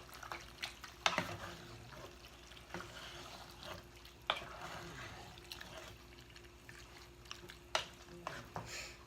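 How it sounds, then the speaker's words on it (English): Chili being stirred in a pot after beef base is added, with soft scraping and liquid swishing in a few distinct strokes, close and fairly quiet, with no talking. "now I'm going to add in that beef base. Got a good stir in there."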